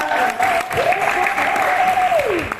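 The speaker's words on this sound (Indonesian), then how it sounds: "Boleh dong kasih tepuk tangan yang lebih lagi buat kakak Magda." Audience applause for a performer at a church youth gathering, loud and continuous, with a sustained tonal voice or note sounding over the clapping.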